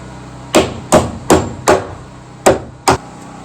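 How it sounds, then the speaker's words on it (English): Framing nails are hammered home into wood wall framing with six sharp, loud strikes in an uneven rhythm, each a close, ringing thwack with a short decay and nothing else in between. "hammer these home"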